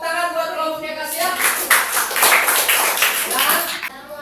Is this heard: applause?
yes